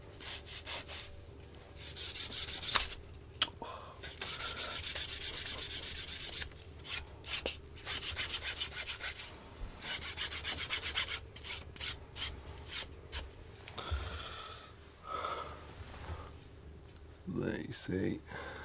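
Sandpaper rubbed by hand in steady back-and-forth strokes while making a knife strop, a close, moderately loud scratchy rasp in bursts separated by short pauses.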